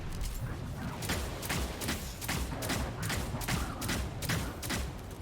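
Rapid gunfire in Destiny 2, a solo Legend Lost Sector fight, with loud shots cracking in a steady rhythm about twice a second and no talk.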